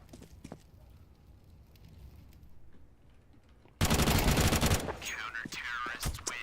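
AK rifle fire in a Counter-Strike match, a loud burst of rapid automatic shots arriving suddenly after a quieter stretch, followed by more clattering in-game noise.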